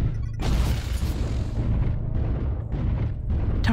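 A missile explosion in the MechWarrior Online video game: a heavy booming blast with deep rumble that sustains and rolls for several seconds at close range.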